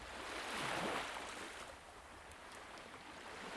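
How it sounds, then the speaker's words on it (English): Slow ocean waves wash in, one soft surge swelling and fading before a quieter, steady hiss of surf, heard alone at a low level. "You can hear the slow rhythm of waves"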